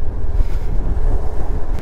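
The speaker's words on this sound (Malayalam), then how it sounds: "കാറ്റടിക്കുന്നുണ്ട്" Strong wind blows steadily, buffeting loudly and roaring across the microphone with a constant low rumble and no voices.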